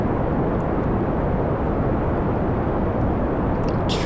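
A rocket engine burns in the Kerbal Space Program video game, throttled to about 60 percent. It makes a loud, steady, broadband roar that holds without a break, with no speech over it.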